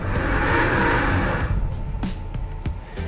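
A 2020 Toyota Prius AWD-e strains under heavy throttle on a slippery slip-test surface, a loud rising whine and rush at first that drops away into quieter rumble with a few sharp clicks.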